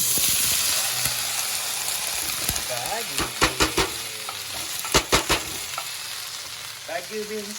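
Baguio beans sauté with onion and garlic in a pan, a steady sizzle broken by several sharp scraping stirs, close up, with a voice speaking briefly over the frying.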